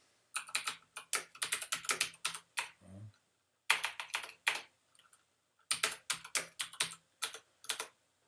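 Rapid typing on a computer keyboard while entering an address into lodge membership software, bursts of close, crisp key clicks in three runs separated by short pauses.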